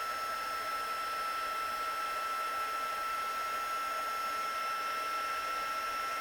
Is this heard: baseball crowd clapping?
no